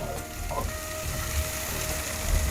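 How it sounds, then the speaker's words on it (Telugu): Chopped tomatoes frying in a pan, a dense continuous sizzle with a light scraping of stirring, close and fairly loud, unbroken over a short stretch with no talk. "టమాటా పచ్చి వాసన పోయేంత వరకు ఫ్రై చేస్తే సరిపోతుంది."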